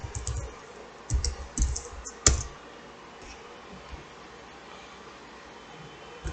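Keys tapped on a computer keyboard while entering a network configuration command, a few brief clicks in the first seconds with one sharper keystroke, then quiet room hiss.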